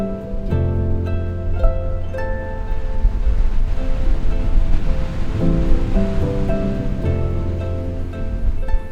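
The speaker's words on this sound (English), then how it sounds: "It's known for its basalt columns, sea stacks, and powerful Atlantic waves." Powerful Atlantic waves crash and wash up steadily on Reynisfjara black sand beach in Iceland. The roaring surf is loud and continuous, with no voices over it.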